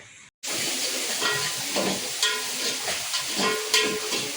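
Tadka for macaroni sizzles loudly in a hot pan, a steady close hiss of frying that bursts in abruptly after a brief silence, with faint stirring scrapes on top.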